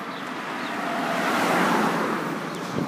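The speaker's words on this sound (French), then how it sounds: "Ah, ben, il y a une voiture." A car passes along a road outdoors, a broad swelling rush that builds toward the middle and fades slowly, steady and moderately loud with no voices.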